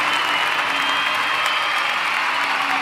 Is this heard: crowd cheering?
yes